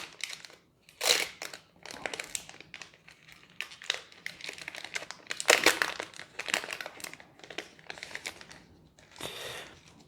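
Paper packaging from a Pokémon card box crinkles and rustles in irregular bursts, close up, with short pauses between handfuls of crumpling.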